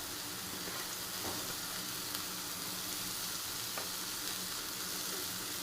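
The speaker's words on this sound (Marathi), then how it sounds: "आता एक कोबी बारीक चिरून घेतले ते टाकायचे।" Finely chopped cabbage frying in a pan for kobi bhaji, a steady, even, moderately faint sizzle that stays constant throughout with no voices.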